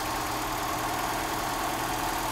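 A Mercedes W123 230E engine idles during an idle mixture adjustment, giving a steady, close, even hum with no voices over it.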